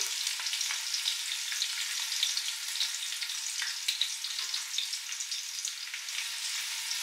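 Thinly sliced onions frying in a pan for mutton biryani, browning with a continuous soft, airy sizzle and small crackles, steady and fairly faint throughout.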